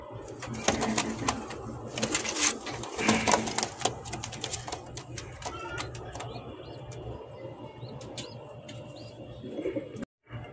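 A pair of gola pigeons coos softly at a loft, with low repeated coos over a steady background hum and scattered sharp clicks and chirps.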